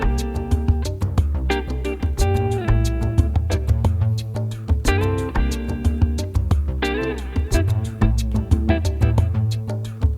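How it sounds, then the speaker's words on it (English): An Omnisphere synth bass holds down a deep, steady low end under an RMX drum kit groove, run through a Trident, with crisp repeating hits and shifting melodic tones, continuous and moderately loud. "we've got a nice little bottom end going on that sounds like"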